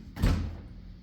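A single interior house door swings and shuts with a brief thud during a final walk-through of a home, close and moderately loud, with no one talking.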